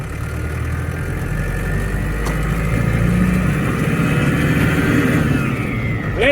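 A vehicle engine rumbles steadily and fairly loudly during a trailer driving lesson near a 7.5 tonne lorry, with a rising whine near the end as it pulls away.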